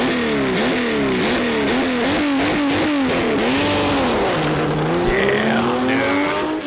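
Porsche rally car recorded onboard at speed, its engine howling loud and continuous as revs climb and fall through gear changes, with tires squealing and skidding under the constant roar.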